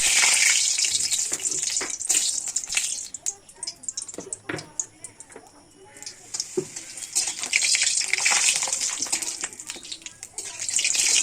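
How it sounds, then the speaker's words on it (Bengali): Papad frying one at a time in oil in a wok, a loud broadband sizzle with crackling bursts that rise and fall, easing briefly mid-way then swelling again, with no voice over it. "একটা একটা করে পাঁপড়গুলো ভেজে নেব।"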